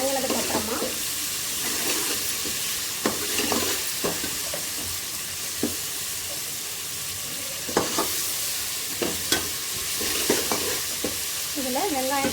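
Masala for a river fish curry sizzles steadily in a pan, broken by repeated scraping and clanking stirs of a spoon against the metal, with a voice talking faintly in the background.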